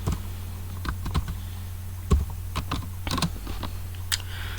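Keys clatter on a computer keyboard as HTML code is typed in, with irregular bursts of close, crisp clicks and no voices.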